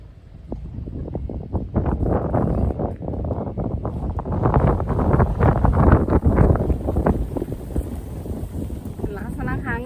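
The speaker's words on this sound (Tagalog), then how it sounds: "Ang lakas na ng hangin." Strong wind buffets and roars across the microphone in gusts on a farm at a glamping site in Japan, rising and falling throughout, loud and rough.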